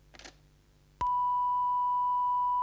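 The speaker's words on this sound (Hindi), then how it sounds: "जब देखो तब आंसरिंग मशीन" An answering machine gives its record beep after a brief rustle, a single loud, pure tone that starts sharply and holds steady to the end.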